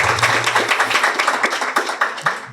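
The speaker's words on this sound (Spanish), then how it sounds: "Un aplauso, Ana Cristina." Audience at an academic geography conference clapping after a talk, a dense, fairly loud patter of many hands that keeps a steady rhythm throughout, with no voices over it.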